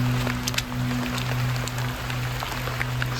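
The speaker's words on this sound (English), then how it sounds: "the sad thing is, it's getting soaked in this rain." Rain falls steadily on a forest during a walk along the Pyrenees Way between Burguete and Urdaniz, making a dense, close patter of drops on leaves and surfaces with a low steady hum beneath and no talk.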